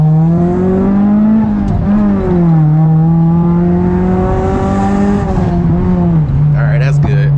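Honda car accelerating hard through a full pull, a loud, steady engine drone that climbs in pitch with a brief dip partway through, close and continuous for the whole stretch.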